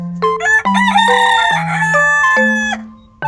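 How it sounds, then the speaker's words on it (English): A rooster crows a loud cock-a-doodle-doo over sustained electronic melody tones in a nursery learning track about farm animals. "Chicken,"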